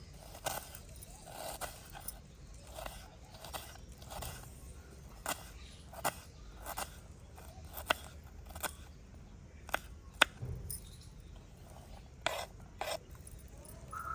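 An onion is chopped finely with a knife on a board, with a run of quick, crisp taps at a fairly regular pace, close and clear, with no voices.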